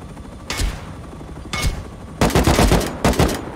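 Video game gunfire during a clan raid: a couple of loud isolated bursts, then a rapid volley of close, punchy shots in quick succession, with no talking over it.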